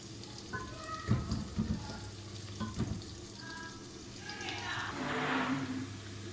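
Onions frying in a pan give a steady sizzling hiss that swells toward the end, with a few spoon knocks and stirring sounds near the start, with no talking.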